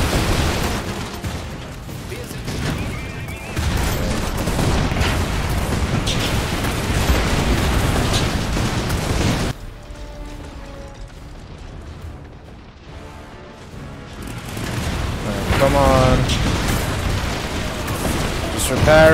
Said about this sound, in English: There's like three sets of fucking missiles firing at this guy.